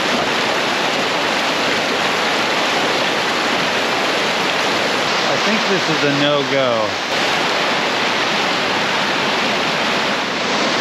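A swollen, fast-flowing river near Shy One Bridge at Klondike Notch rushes in a loud, steady broadband roar that fills the whole stretch, with a voice briefly speaking over it.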